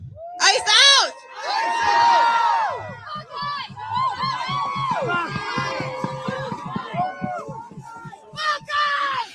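Crowd at an ICE protest demonstration as it breaks apart: loud, close shouting and cheering voices overlapping, with whoops and bursts of chanting rising and falling throughout.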